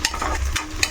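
Okra pieces stirred and frying with onions in a hot pan, a steady close sizzle broken by a few sharp scraping stirs over about a second.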